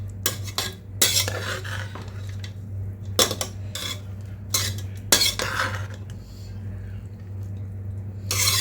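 A metal spoon scrapes and clanks against a pot as lemon rice is gently turned, in several sharp bursts over a low steady hum.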